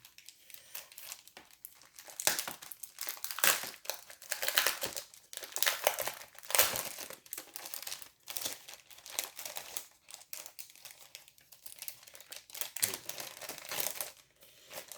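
A crinkly plastic package is pulled open and crumpled by hand for a long stretch, close rustling and crackling with small tearing bursts and no talking.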